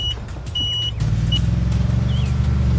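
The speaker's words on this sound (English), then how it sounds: "The truck drives away, taking the grass to fill the big hole." A toy mini truck loaded with green grass drives off, its small motor giving a steady, fairly loud hum that steps up about a second in and keeps droning with a slight ripple, with no voices.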